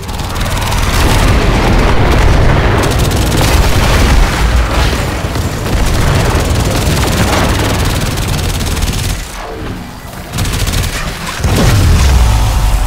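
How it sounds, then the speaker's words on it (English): Heavy booming mortar fire and explosions in the video game Warframe, loud sustained rumbling blasts with a brief lull near the end before another deep impact. "I've only got a few mortars left. Firing them all."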